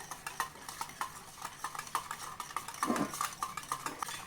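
A whisk beats milk and dissolving jaggery in a bowl for instant junnu, giving a steady run of quick, light scraping and clinking strokes at moderate loudness, with no one speaking.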